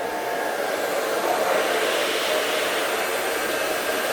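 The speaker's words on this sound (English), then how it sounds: "This is just the Numi blow dryer, just a regular one." A regular Numi blow dryer set on hot runs steadily and close, aimed at permanent vinyl decal on plastic, a constant loud whooshing roar with no pauses.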